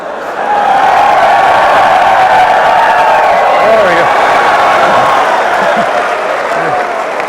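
A large crowd of Air Force Academy cadets cheers and applauds for General Waggy, a loud, sustained roar of whoops and clapping that swells in quickly and holds steady throughout, with a few shouted voices rising above the mass.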